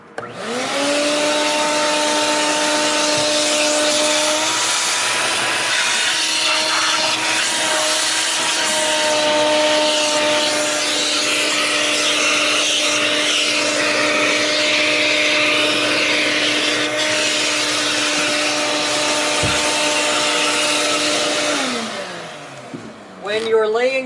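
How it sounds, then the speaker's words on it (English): A vacuum cleaner runs loud and steady for over twenty seconds while cleaning the subsurface of a boat before carpet is laid, its motor whine holding constant, then spinning down near the end. "we need to vacuum up here a bit more"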